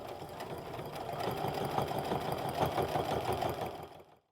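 Sewing machine stitching down the side of a DIY crossbody sling bag, a steady rapid mechanical whir with fine rhythmic needle ticking, close and continuous before slowing to a stop at the end.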